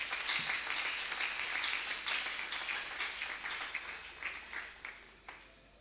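A church congregation applauds during a Sunday worship service. Many hands clap together, fairly loudly at first, then thinning into scattered, fading claps.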